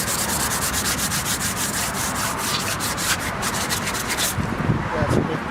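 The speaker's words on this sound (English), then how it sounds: "Let me grab you some more sandpaper." Sandpaper rubs back and forth over bondo putty on a damaged fiberglass Humvee hood, a steady rhythmic rasping of close hand strokes with no talking.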